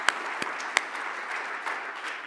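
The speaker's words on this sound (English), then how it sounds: "So let's hear a round of applause for the folks who helped make today possible" Audience applause at an industry event, a brief, steady wash of many hands clapping, moderately distant, with a couple of sharper claps standing out at the start.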